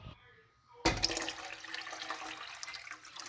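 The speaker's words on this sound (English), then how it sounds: "I'm going to do 12 cups of water, and I'm going to put them in here" After a quiet moment, water suddenly gushes and splashes into a cooking pot for chicken noodle soup, a steady pouring rush close by that continues to the end.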